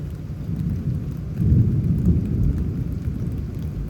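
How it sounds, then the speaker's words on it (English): Thunder rumbles low and heavy through steady rain during a lightning storm in Houston, Texas, swelling briefly louder midway under a constant patter of rain. "now we're getting some crazy lightning going on and thunder going on in this"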